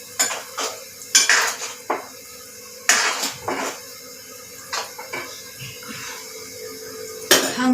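Spiced matki (moth beans) being mixed in a pan: a spoon scrapes and clinks against the metal in irregular bursts, close and moderately loud, with quiet gaps between strokes and no speech.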